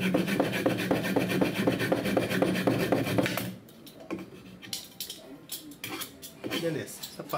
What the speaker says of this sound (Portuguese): Agora cortar da rodinha maior.